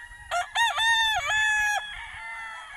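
A broodcock rooster at a game farm gives one loud, close crow lasting about a second and a half, its harmonic call rising and then holding before it fades.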